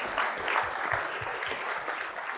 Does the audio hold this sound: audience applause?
yes